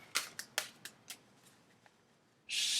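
Tarot cards are shuffled by hand in a quiet room, a series of crisp riffling snaps and flicks that fade in strength, followed by a sudden sustained bright rustle as the deck is bridged.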